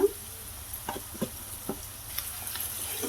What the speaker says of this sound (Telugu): చక్కగా ఇది గోల్డెన్ కలర్ వచ్చేంత వరకు వేయించేసుకుందామండి ఉల్లిపాయ ముక్కల్ని